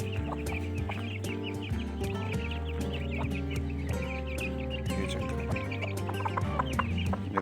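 A hen clucking steadily among other chickens, a busy close chorus of short repeated clucks and murmurs with scattered sharper calls throughout.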